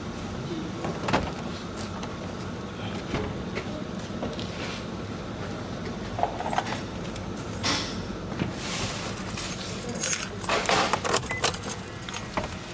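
Car keys jangle and clink in the hand beside a car, a scattered run of metallic rattles over a low, steady background hum, with no talking.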